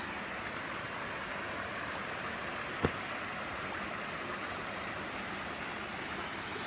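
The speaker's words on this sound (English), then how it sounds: "Hear that water again." Steady broadband rushing of stream water beside a small bridge at Yen Tu, Vietnam, continuous and even, with a brief sharp tap partway through.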